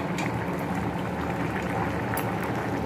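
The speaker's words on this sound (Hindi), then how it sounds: "ये दाल जो है वो करीब बॉयल हो आया है और थोड़ा सा इसको पकना है।" Dal and vegetables, with cauliflower stalks among them, boiling in a pot with a steady, dense bubbling and simmering that holds at an even level throughout, close and alone with no voices.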